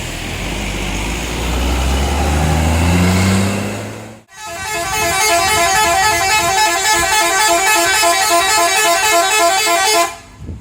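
Tour bus telolet (Basuri) horns at the Borobudur temple exit: a revving bus engine first, then a loud, continuous multi-tone musical horn melody blaring for several seconds before cutting off.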